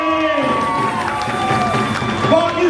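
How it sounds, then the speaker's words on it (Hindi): A crowd at the Spogomi garbage-picking world cup event in Tokyo claps and cheers loudly and steadily throughout, with voices mixed into the din. "जोरदार तालियां होनी चाहिए"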